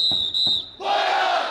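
A baseball crowd at a Hanwha Eagles game shouts a short pickoff chant in Chungcheong dialect after a whistle, a burst of massed voices filling the second half.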